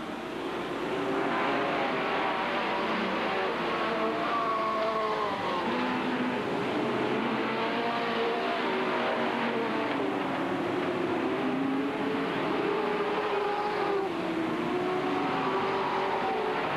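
Sportsmen-class race cars run a dirt oval feature at Hales Corners Speedway in 1988, their engines droning steadily as the pack circles the track, with no break in the noise.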